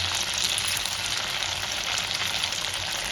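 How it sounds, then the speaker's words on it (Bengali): Pieces of lentil barfi fry in leftover oil from frying potatoes, giving a steady, close, even sizzle that crackles without pause throughout. "এই তেলের মধ্যে এবার আমি এই বরফিগুলো এক এক করে একটু হালকা করে ভেজে"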